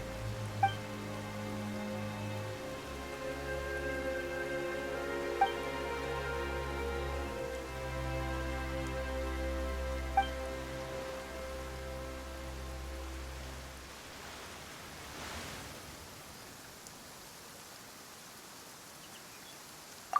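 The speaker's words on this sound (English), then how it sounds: "Why is it raining all of a sudden?" Steady rain falls in Genshin Impact throughout over low sustained tones, then fades away toward the end, leaving a quieter wash of patter.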